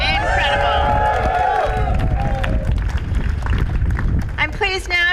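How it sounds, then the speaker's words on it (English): A crowd at an outdoor hunger strike press conference for Palestine claps and cheers for a speaker, loud and close, with whistles and shouting voices mixed into the applause, which thins toward the end. "Let's give another round of applause for Jude."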